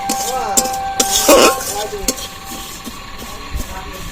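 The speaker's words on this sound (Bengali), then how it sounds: "এই মুড়িগুলো ভাজা হয়ে যাবে।" Puffed rice is roasted and stirred in a pan on a home clay stove, producing close, loud scraping and rustling strokes with a faint sizzle, a few metallic clinks and brief background voices.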